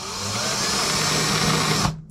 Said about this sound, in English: So I just take a regular drill, and I'm gonna do a hole here.